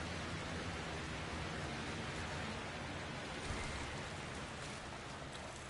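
A waterfall in the video game Dragon Age: Inquisition gives a steady, dense rushing roar that holds at an even loudness through the whole stretch, with no voices over it.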